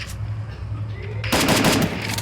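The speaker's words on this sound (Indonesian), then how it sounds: "Di sini ada Yuda Killer menembak dengan 2 killnya Yuda Killer." Rapid gunfire bursts from a battle-royale style video game during a guild tournament match, a steady low hum giving way to a loud, dense volley of shots in the second half.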